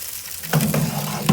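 Food frying in oil in a home kitchen during pre-dawn meal preparation: a short close burst of sizzling and crackling with a soft stirring scrape, fairly loud, with no talk.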